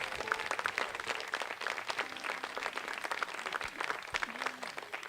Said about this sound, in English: One more hand applause